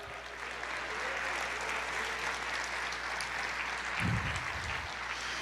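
Applause from a church congregation during a Portuguese sermon, a steady broadband patter held evenly throughout, with a brief low thump near the end.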